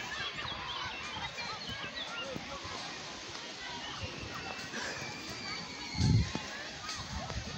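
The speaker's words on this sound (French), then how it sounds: "Si on voit des canards." Ducks give scattered honking calls across a noisy outdoor scene, with one louder call near the end and faint voices in the background.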